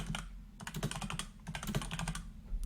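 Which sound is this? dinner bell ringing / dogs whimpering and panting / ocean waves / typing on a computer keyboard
typing on a computer keyboard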